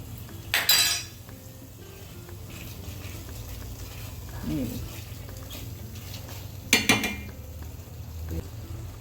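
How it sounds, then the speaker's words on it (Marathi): A spoon stirs fried dry fruits into sweet potato and sago kheer in a pot, giving two sharp metallic clinks and a softer scrape among a low, quiet kitchen hum. "छानपैकी फ्राय केलेले सगळे ड्रायफ्रूट्स टाकून घेत आहे"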